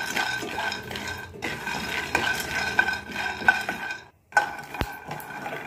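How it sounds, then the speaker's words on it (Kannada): Peanuts sizzling and being stirred in a small pan, with steady scraping and light clinks of the spoon against the metal, close up with a brief pause near the end. "ನೋಡಿ, ಕಡಲೆ ಬೀಜ ಫ್ರೈ ಆಗ್ತಾ ಇದೆ."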